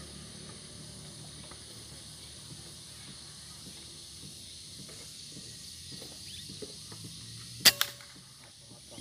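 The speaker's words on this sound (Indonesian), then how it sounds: "Coba tembakan kedua." A PCP Predator air rifle with a dural tube fires a second shot at a small PVC pipe target during an accuracy test: one sharp, loud crack near the end, after a quiet stretch of faint background noise.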